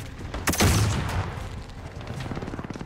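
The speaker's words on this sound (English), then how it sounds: "Flashbang out!" Flashbang grenade from Call of Duty: Modern Warfare going off in a sharp, loud crack that booms and then fades, followed by a few faint scattered pops of gunfire.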